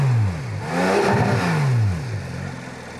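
Porsche 3.8-litre rear engine revs in sweeping rises and falls, with a loud, close pitch sweep climbing and dropping twice in about three seconds and no talking.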